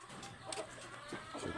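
Chickens kept on a hillside farm cluck in short, soft bursts, quiet and fairly close, a few scattered calls over a faint background.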